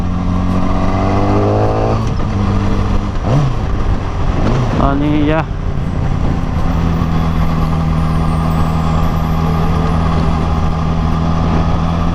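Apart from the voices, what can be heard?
Yamaha R6 superbike engine revving while riding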